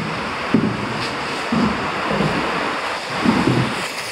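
A broad, steady rush of a flooded river after a day of rain fills the scene, loud and continuous, with occasional low thuds and gusts over the roar.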